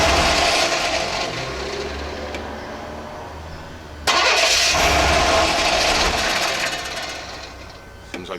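A Chevrolet C10 stepside truck engine cranks and catches, then settles into a loud, steady idle close by; the engine has cold idle problems, and a second surge of revving comes midway before the idle evens out again.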